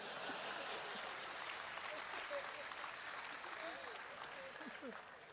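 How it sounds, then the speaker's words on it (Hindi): A live audience at a Hindi comedy or poetry performance bursts into sustained applause, a dense, even wash of clapping that slowly tapers off over several seconds. "और अब आपकी तालियां उठेंगी"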